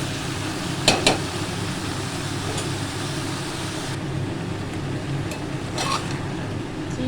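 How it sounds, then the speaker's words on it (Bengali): Prawns, pointed gourd, potato and onion fry over high heat in a pan, giving a steady sizzle with a couple of sharp clinks from stirring early on and a brief metallic scrape later. "আমি কিন্তু আঁচ বাড়িয়ে সবগুলোকে খুব ভালো করে ভাজা ভাজা মতো করে নেব"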